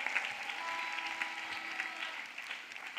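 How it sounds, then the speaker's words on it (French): Audience applause at a French-language church ministry gathering, a steady wash of clapping from a crowd heard at a moderate distance, continuous and fairly even throughout. "Clap for such a man."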